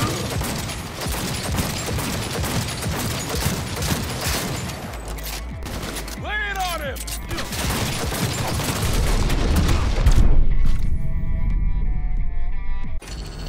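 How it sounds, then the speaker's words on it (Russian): Pistol fire in the video game Cyberpunk 2077 sounds as a loud, dense run of rapid shots and impacts over constant action noise, with a brief whooshing sweep in the middle and a tonal hum near the end. "что он выдержал столько выстрелов из этого пистолета"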